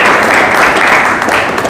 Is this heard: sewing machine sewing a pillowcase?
no